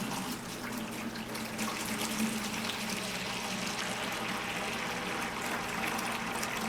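Aquarium water flowing steadily through a siphon hose during a water change, a continuous close gurgling rush with no pauses, no voices.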